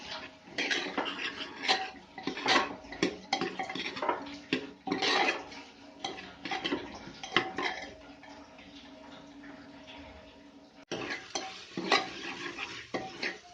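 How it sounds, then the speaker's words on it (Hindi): Lentils are sautéed in a pot, a spoon scraping and stirring in repeated strokes over a faint sizzle, with metallic clinks of utensil on cookware. "अब मैं दाल को थोड़ी देर भूनूंगी"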